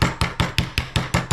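Smooth-faced hammer lightly tapping scrap metal while building an alcohol stove: seven evenly spaced, sharp close taps at a steady quick rhythm, no voices.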